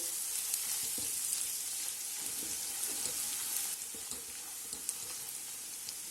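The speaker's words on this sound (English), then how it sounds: "Cook this till the raw smell of the garlic goes away." Garlic with a pinch of salt and pepper powder frying in a pan gives a steady, close sizzle throughout, with small clicks and taps from stirring scattered across it.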